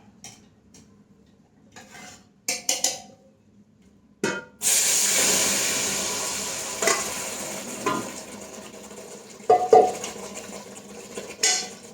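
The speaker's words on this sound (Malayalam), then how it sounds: "ഇനി നമുക്കത് ഇതിലേക്ക് ഒഴിച്ചു കൊടുക്കാം" Mashed onion mixture for lehyam is tipped into a pot, with clanks and scrapes of utensils against metal and a burst of sizzling and stirring, close and intermittent, without speech.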